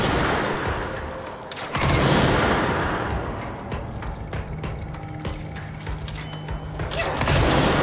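Mechanical clicks and metallic ratcheting from a gun being cocked in the video game Control, several sharp mechanism sounds over a droning ambient background, with a couple of louder impacts near the start and end.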